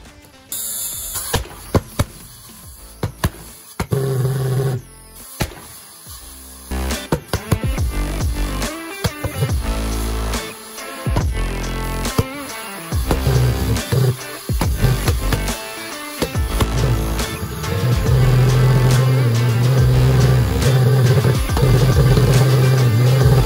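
A homemade valveless pulse jet engine sputters and coughs in irregular bursts, then builds into a loud, sustained roaring drone, heard close up.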